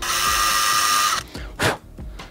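A loud, close power drill whines steadily as its bit clears paint off a homemade fishing jig, then cuts out into a couple of short revving bursts and clicks.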